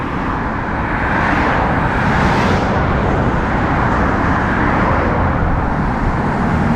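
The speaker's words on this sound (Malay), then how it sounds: "Banyak pula kereta." Cars pass on a busy road in a steady, loud traffic roar, with one vehicle swelling nearby midway and no talking.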